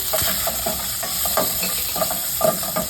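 Spices and green chillies sizzle in hot oil while being sautéed for malai chicken, a steady hiss with repeated scraping stir strokes, close and fairly loud, with no voices.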